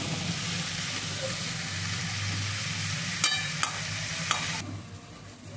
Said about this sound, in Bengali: ভেন্ডিগুলো তেলের উপরে দিয়ে কাঁচা লঙ্কা, পেঁয়াজ দিয়ে এখন ভাজা হবে।